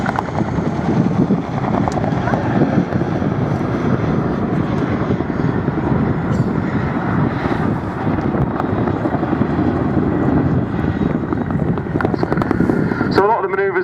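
Continuous loud rotor roar and engine drone from a Chinook twin-rotor helicopter flying display manoeuvres at the Culdrose air show, with a voice talking over it throughout.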